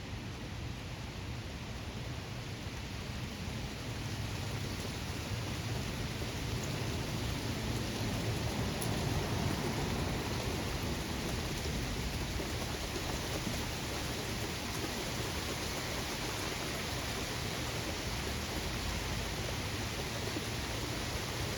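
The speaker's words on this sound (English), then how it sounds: "Alright, guys, it's raining." Heavy rain pouring steadily during a thunderstorm in northeast Ohio, a dense, even wash of downpour noise throughout with no distinct thunderclaps and no voices.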